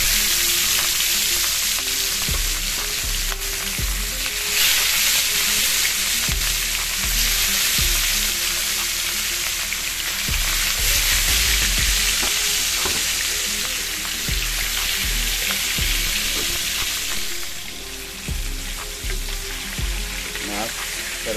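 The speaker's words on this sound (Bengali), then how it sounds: "এখন মাছ দিয়া দিব।" Catla fish frying in hot oil in a pan, a loud, continuous close sizzle with crackling spatters and occasional knocks of a utensil running throughout.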